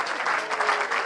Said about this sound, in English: Round of applause for Mom.